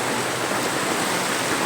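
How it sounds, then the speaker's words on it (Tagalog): A strong water current rushing during rain, a steady loud broadband roar of flowing water with no breaks, heard alone without talk. "malakas yung agos galing doon oh"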